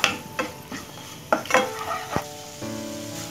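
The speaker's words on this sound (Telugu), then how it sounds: "చూడండి జస్ట్ 1/2 నిమిషం వీటిని ఫ్రై చేశాను" Dry masala powder fries in a pan for a methi and egg masala curry, giving a soft sizzle broken by several scraping stirs of a spoon, with a steadier frying hiss in the final second.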